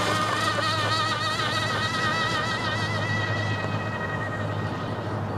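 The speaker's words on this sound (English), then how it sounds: "Okay, Mike, when you turn, go full throttle and turn and go straight very fast" The Miss GEICO race boat's engine roars at full throttle on the water, a loud sustained whine with wavering harmonic tones that hold steady throughout.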